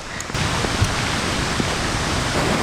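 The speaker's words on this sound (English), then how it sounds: "Can you hear the waterfall? I know, it's so loud." A waterfall swollen by a storm in Spain roars steadily and loudly, a dense wash of rushing water that stays constant throughout with no voices.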